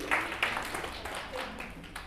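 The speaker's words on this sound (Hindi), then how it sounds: "तालियां मारे इसके लिए यार" Classroom students clap for a classmate in a short, loose burst of applause, fairly faint and a little uneven, fading slightly toward the end.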